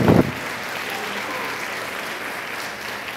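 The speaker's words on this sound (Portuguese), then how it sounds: "dar um aplauso estrondoso para o Senhor" A church congregation claps together in a brief burst of applause that holds steady, loud and close, at a Portuguese-language prophetic sermon.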